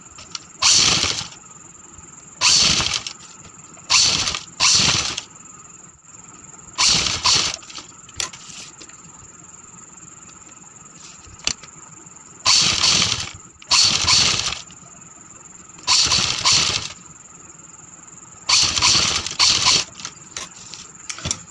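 A sewing machine stitches a sleeve in repeated short, rapid whirring bursts of about a second each, with quiet pauses and a steady faint hum between them.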